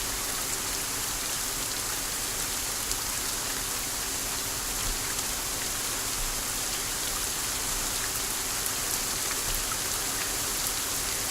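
A steady wash of loud rain in the video game Saurian fills the whole stretch, a thick, even hiss of drops with no breaks or voices.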